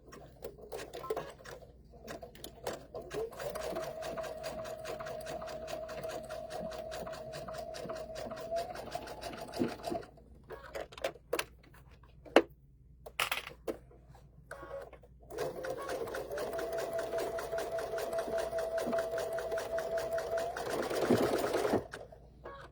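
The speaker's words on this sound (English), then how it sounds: "So we are now starting our second row of stitching." A sewing machine stitches a holiday rope bowl in two long, steady whirring runs, with a pause between them filled by light handling clicks and shuffling.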